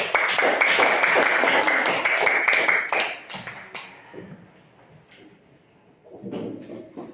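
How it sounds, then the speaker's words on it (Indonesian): A school class claps for a student group: a burst of dense, close applause for about three seconds that fades into scattered claps and room noise, with a voice briefly at the end. "Kita berikan tepuk tangan untuk kelompok cempaka."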